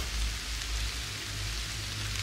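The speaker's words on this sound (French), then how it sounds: "il commence à pleuvoir violemment" Heavy rain pours steadily near ruined stables and a chapel, a dense, even hiss that stays loud and unbroken throughout with no voices.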